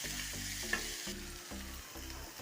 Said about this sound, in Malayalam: ചെറിയൊരു പീസ് ഇഞ്ചി അതുകൂടെ കട്ട് ചെയ്ത് ഇടയ്ക്ക് ഒന്ന് കടിക്കാനായിട്ട് നല്ല ടേസ്റ്റ് ആയിരിക്കും ഇവിടെ ചേർത്ത് ഇളക്കി കൊടുക്കാം